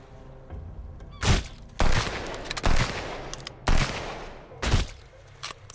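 Bursts of gunfire in the survival video game Sunkenland during a fortress raid, five or six loud sharp shots spaced irregularly over a steady background hum, no talking.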